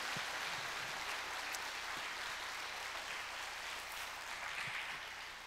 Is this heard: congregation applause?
yes